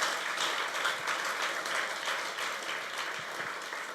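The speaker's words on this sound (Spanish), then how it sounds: "Dele un aplauso al Eterno." Congregational applause during a church sermon, a faint, distant wash of many hands clapping steadily and evenly for several seconds without talk.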